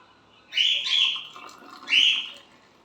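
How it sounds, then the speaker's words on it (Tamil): A pet bird at home calls twice in quick succession, bright shrill chirps of moderate loudness heard alone over faint room noise. "மீனு கத்துறது கேக்குதா"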